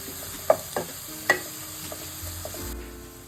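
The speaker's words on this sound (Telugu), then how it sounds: "ఈ పాలకూర కూడా ఆయిల్లో మంచిగా ఫ్రై అవ్వాలండి." Spinach frying in oil in a pan for a buttermilk sambar, with a few sharp stirring clacks early on and a steady low sizzle throughout, fairly quiet and close.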